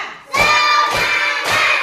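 A primary school class in Indonesia claps together in a counted pattern, loud and close, with three strong bursts of clapping and voices mixed in as the children join in.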